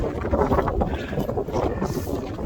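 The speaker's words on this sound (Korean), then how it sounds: "와 대단한 바람이다 대단한 바람" Strong wind roars and buffets the microphone on Hangyeryeong, a snowy mountain pass under a heavy snow advisory, as a loud continuous rushing with gusty fluctuations.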